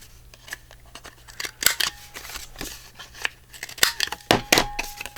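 Scissors snip repeatedly through a sheet of 12x12 patterned paper to cut a tag, with crisp close cuts in irregular bursts and light paper rustling between them.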